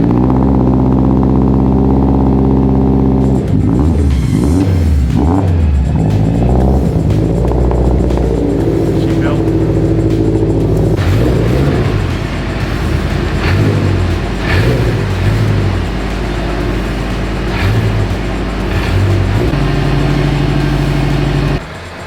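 Aftermarket exhaust on a 2022 Subaru BRZ, loud and close, with a steady idle broken by repeated sharp revs that rise and fall, then settling into a sustained rumble with further blips; no one speaks.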